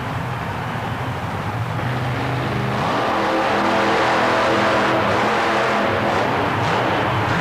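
Mike Wine's supercharged Ford monster truck, Jersey Outlaw, on a qualifying run, a distant rumble swelling into a loud, sustained roar that holds steady to the end.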